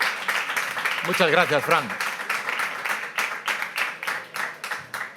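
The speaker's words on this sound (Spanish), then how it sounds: "por favor, un aplauso muy grande para Fran González Pérez" An audience applauds for Deportivo legend Fran González Pérez, steady moderate clapping through the whole stretch while someone speaks briefly over it.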